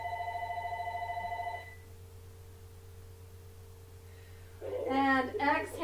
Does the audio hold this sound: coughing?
no